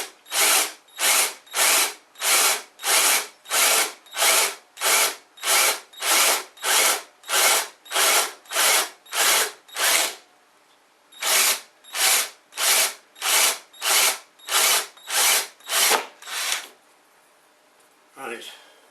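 Power drill working in repeated pulses, about two dozen evenly spaced whirring bursts heard up close and loud, with a short pause partway through before the run resumes and then stops.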